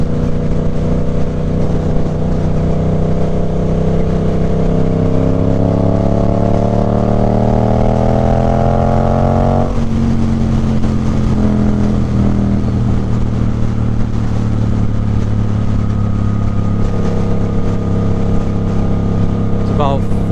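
A 2024 Suzuki GSX-8R fitted with a Toce exhaust hums steadily at cruising revs while riding, its engine tone rising gradually before dropping and settling into an even drone, with a rider talking over it.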